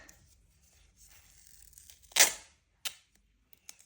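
A single quick rip of a paper tea-bag packet tearing along a perforation, close and crisp, followed by a couple of small clicks and rustles.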